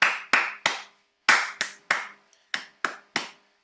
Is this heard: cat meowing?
no